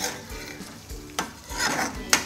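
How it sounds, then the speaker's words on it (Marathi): Kanda poha being stirred with peas in a pan, giving soft scraping stirs and light sizzling with a couple of sharp utensil clinks against the pan. "वाटाण्यासोबत थोडंसं मिक्स करून घेऊया."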